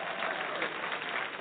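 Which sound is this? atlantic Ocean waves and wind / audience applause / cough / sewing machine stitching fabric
audience applause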